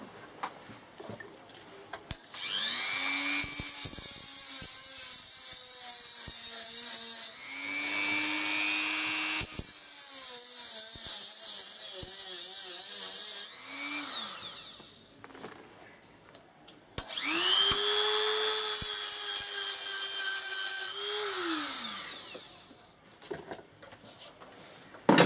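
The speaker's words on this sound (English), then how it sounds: "I'm just going to run the Dremel down it just to make sure all the last bits of glue are out" A Dremel rotary tool grinds leftover glue off a Leon Paul epee blade, whining loudly in three long high-pitched runs with brief gaps and pitch dips as it bites into the metal.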